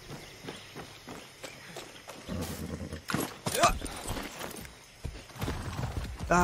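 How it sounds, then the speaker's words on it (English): Horse hooves clip-clop at a walking pace, with a short whinny partway through over a noisy background, in the video game Far Cry 6. "Alright, there's a horse."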